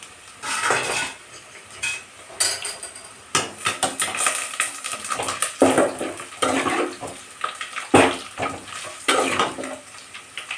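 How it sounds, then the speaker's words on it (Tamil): Ginger sautéing in oil in a pan for chicken gravy, with repeated clinks and scrapes of a spoon against the pan over a soft sizzle. "நல்லா இஞ்சி நல்லா வதக்கிடணும்"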